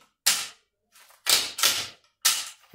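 A bottom-loading 22-joule air shotgun with a 16-round magazine fires four or five sharp, loud cracking shots in quick, uneven succession at close range, with no talking.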